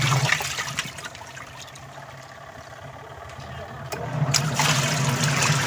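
Water draining from an automatic washing machine converted to manual operation. A steady rushing and gurgling flow runs throughout and swells louder toward the end.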